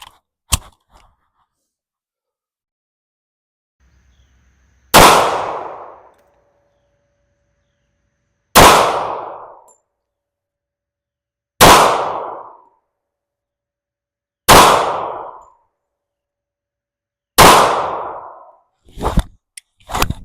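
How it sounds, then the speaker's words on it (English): Five loud, sharp shots from a TISAS .45 ACP carry pistol fired outdoors, spaced a few seconds apart, then a quick closing pair of shots, with near silence between them. "we're going to go ahead and shoot the TISAS 45 ACP carry model"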